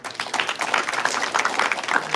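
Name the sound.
audience clapping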